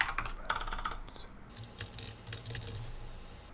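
Rapid typing on a computer keyboard while a text box is filled in, close and fairly quiet, with irregular bursts of key clicks and brief pauses between them.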